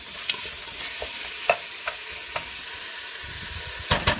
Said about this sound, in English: Mix it up with onions and the garlic,